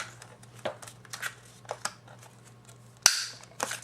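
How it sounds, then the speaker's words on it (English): Corner rounder punch cutting the corners of a paper card: several soft clicks and snips, then one sharp louder punch near the end, close and quiet with no talk. "So I'm just going to take this corner rounder here"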